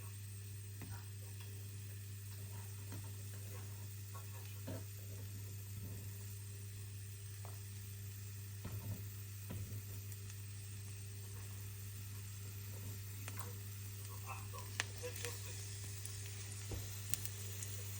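Chopped onions dropped into a hot cooking pot sizzle in a steady, soft, continuous hiss with faint scattered ticks, heard fairly close and alone without talking.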